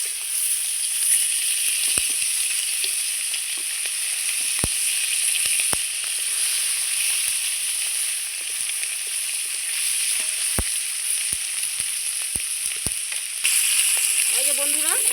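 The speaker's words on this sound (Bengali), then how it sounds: "এই মাছটাও আমি ভেজে নিলাম হালকা করে।" Hilsa fish lightly frying in a pan, a constant close sizzle with scattered sharp crackles and pops over fifteen seconds, growing slightly louder near the end.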